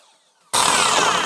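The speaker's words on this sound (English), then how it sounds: "We're going to make this cut now with the saw at the 45-degree bevel." Power saw set to a 45-degree bevel starts cutting wood after a brief near-silence, then a loud, sudden, continuous whine and rasp of the blade running close by.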